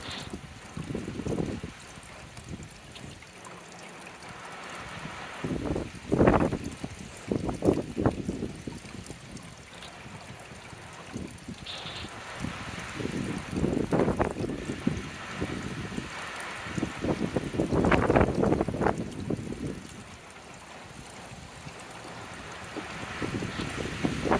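Steady outdoor wind roars and buffets the microphone for the full stretch, swelling into louder gusts now and then, with no speech.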